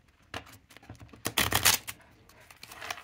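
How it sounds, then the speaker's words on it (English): A deck of playing cards being riffle shuffled close up, with quick fluttering bursts of card snaps building to a dense rush, then lighter taps. "The riffle shuffle, I believe it's called."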